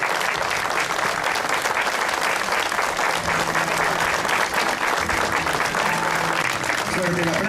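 Strong, dense clapping from an audience at a municipal band event, sustained and even from start to finish, with someone speaking over it near the end.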